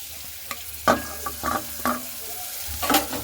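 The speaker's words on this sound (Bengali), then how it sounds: "পরে সে কেটে রাখা পেঁয়াজগুলো দিয়ে দিতে হবে" Chopped onions go into a little hot oil in a kadai (wok) and fry, giving bursts of crackling sizzle and stirring that rise and fall in uneven spurts against a quiet background.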